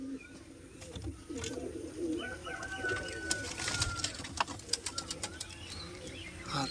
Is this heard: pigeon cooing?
yes